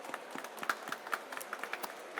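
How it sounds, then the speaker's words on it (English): Scattered clapping from a small audience at a GameFi startup pitch event, quick light claps at uneven intervals. "big round of applause"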